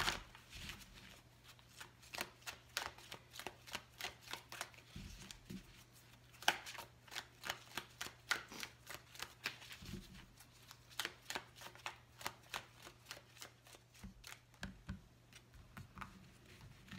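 Tarot cards are shuffled in quick, crisp riffling clicks that repeat in a steady patter, quiet and close, with a faint hum underneath and no speech.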